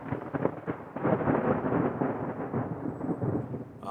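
Thunder rolls after lightning in a storm, a low rumbling swell that builds and lingers, heard from a distance and fairly soft.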